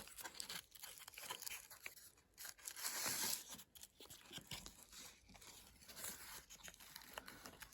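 Old paper found in a Bulgarian house is handled and unfolded, giving soft crinkles and tearing-like rustles in irregular bursts, with one louder crackle midway, close and faint with no talking.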